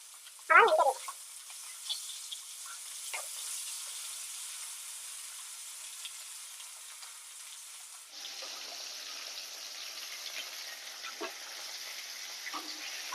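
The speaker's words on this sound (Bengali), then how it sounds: "মাছ ভাজা হয়ে গেছে, এবার আমি তুলে নিচ্ছি" Hilsa fish pieces fry in hot oil with a soft, steady sizzle. A brief louder clatter comes near the start, and the tone shifts partway through as the fried fish is lifted out.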